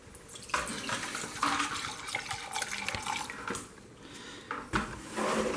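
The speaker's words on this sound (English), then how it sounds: "you just pour it in your drawer like that" Liquid cleaner pours into a washing machine detergent drawer as a steady, close splashing gush that surges and eases a few times over several seconds, with no voices.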